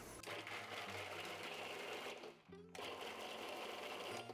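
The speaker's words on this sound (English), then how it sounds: "I like to first start by processing the walnuts" Food processor chopping walnuts for pesto, a loud steady motor whir that runs, stops briefly for a moment, then starts again and keeps running.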